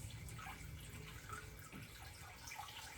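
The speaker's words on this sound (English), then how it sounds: "I'm gonna use my Alexa Pure, which purified my water for me, and I'm gonna wash it out" Sea moss being washed by hand in purified water, a steady close sloshing and trickling of liquid with faint drips, soft and continuous with no talk.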